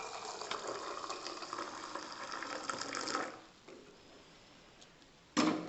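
Milk poured and mixed into coffee in a home kitchen: a steady liquid pour runs for about three seconds, then fades to quiet, followed by a short sharp clatter near the end.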